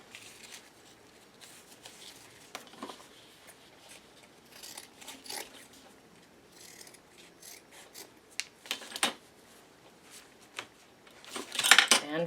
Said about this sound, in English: I'm going to cut some smaller pieces for the arms.